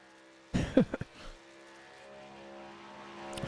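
Race trucks in iRacing at Atlanta Motor Speedway pass with a few quick, punchy engine bursts, then settle into a steady, softer droning hum that gradually swells toward the end.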